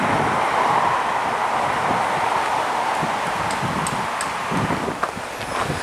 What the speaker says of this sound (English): Very sunny but windy day.